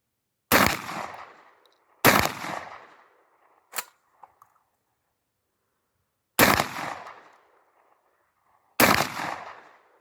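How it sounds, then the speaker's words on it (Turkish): Four sharp, loud gunshots crack out at a 25 m target range, spaced a few seconds apart, each with a short decaying echo. One fainter click or knock falls between the second and third shots. "Şimdi de son kalan 3-4 mermiyi seri atışla atacağım."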